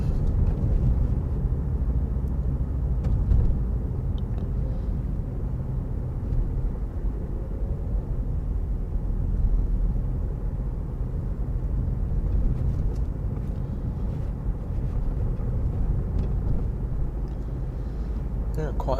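Night driving through Dover, with a constant low road rumble and engine drone from inside the car and passing traffic blending into the steady noise, continuous and unbroken, with a voice faintly present beneath it.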